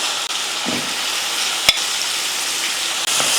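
Boiled mutton stirred into spicy masala in a hot pan for mutton varuval: a steady close sizzle and frying hiss with a few spoon scrapes and clicks, loud and continuous, with no voices.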